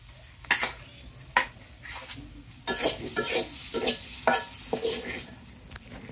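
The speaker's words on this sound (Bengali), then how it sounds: "এটা মাছ ভাজা" Fish frying in a pan, a soft steady sizzle broken by repeated scraping, stirring clatters of a utensil against the pan at irregular intervals, close and fairly quiet, no voices.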